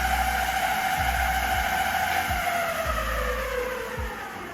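A MEEPO Hurricane all-terrain 2-in-1 electric skateboard motor whines loud and steady at speed 3, with high, rising electric tones and low rumbling from the wheels, and no talk over it.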